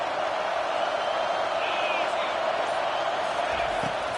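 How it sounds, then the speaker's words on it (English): A stadium crowd at a football game roars loudly on third down, a dense, sustained wall of cheering that stays constant from start to finish. "Decibels rising as the crowd gets behind this defense on 3rd down."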